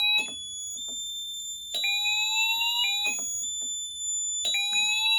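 A fire alarm panel sounds after a heat detector test, giving loud, high electronic sweeping tones that repeat in a cycling pattern every second or so, with no talking over them.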